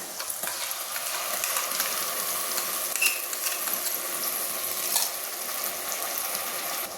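Ground spice paste for kabuli chana with mutton fat frying in a pan, a dense continuous sizzle with occasional scraping and clinks as it is stirred, close and fairly loud.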